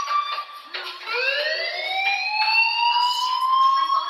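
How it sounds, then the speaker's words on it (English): In the video game Life is Strange, a fire alarm wails continuously in rising electronic sweeps, loud and unbroken with no voices over it. "Hey, do you hear that fire alarm?"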